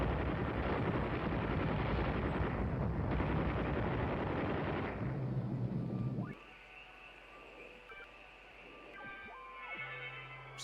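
Dense, roaring bursts of gunfire and explosions in the video game Oxenfree fill the first six seconds, then drop to a quieter hum with scattered tones.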